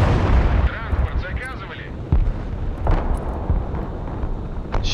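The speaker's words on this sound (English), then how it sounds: "I'm gonna start artillery in it now" Artillery fire in the video game Broken Arrow, a series of heavy booms and blasts over a rumbling battle bed, with some muffled talk mixed in.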